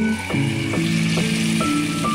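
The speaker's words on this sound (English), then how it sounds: "First piece of tuna omelette to cook." A tuna omelette fries in a pan, giving a steady close sizzle. Faint scraping strokes recur about every half second beneath it.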